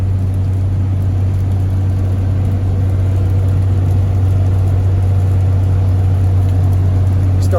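Cab of a turbocharged pickup truck cruising on flat ground while hauling hay, a loud, steady low engine drone and road rumble with no change in pace.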